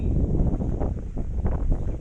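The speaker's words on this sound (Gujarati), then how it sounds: "અને તમને પવન પણ સંભળાતો હોય છે." Wind gusts outdoors by the Tapi river, a steady low rumbling buffet that swells and dips across the moment.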